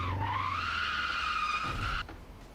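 In a racing video game, a car's wheels lock and its tires skid in a long, loud screech that rises in pitch and holds steady over engine rumble before stopping abruptly.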